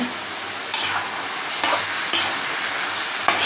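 Continuous sizzling of eggplant and drumstick stir-fry in a pan as chili powder, salt and turmeric are mixed in, with a utensil scraping and stirring through it every second or so, close up and with no talking.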